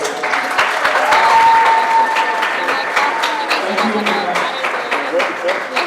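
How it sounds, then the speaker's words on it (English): Loud applause from a crowd at a Texas House District 121 and 118 candidate debate, sustained clapping with crisp individual claps and a faint murmur of voices beneath, holding steady for about six seconds. "One more round of applause for all four of them."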